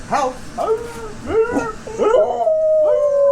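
A female dog howls and yips in a run of rising, wavering cries that end in one long sustained howl, loud and close, with a person's voice briefly between the howls.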